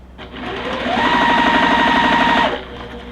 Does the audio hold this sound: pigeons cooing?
no